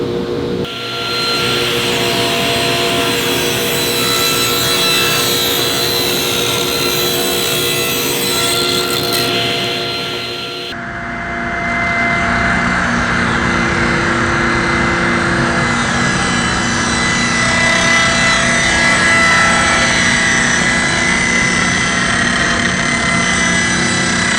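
A table saw cuts wood in a continuous loud whine with a grinding edge that holds for the full length. One brief dip marks a change partway through and there is no talking.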